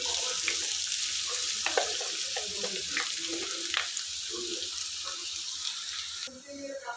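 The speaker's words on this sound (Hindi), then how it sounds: "इसमें अभी हम प्याज और हरी मिर्ची जो हमने चॉप करके रखा था उसको डाल देंगे।" Chopped onion and green chili frying in hot oil in a pan, a steady close sizzle with occasional stirring clinks and crackles, tapering slightly near the end.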